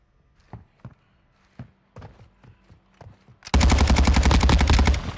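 Call of Duty DMZ gunfire: a few scattered single shots, then a loud, sustained rapid-fire burst of automatic fire close by.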